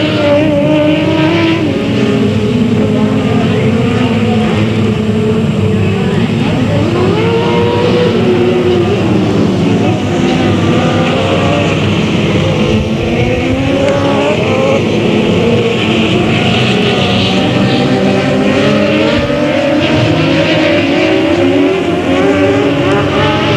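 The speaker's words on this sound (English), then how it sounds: "Lights out, greens up, we're racing." Race cars at Delta Speedway pack together at the green flag, engines roaring and revving in a loud, continuous, shifting blend as several cars accelerate and pass close by.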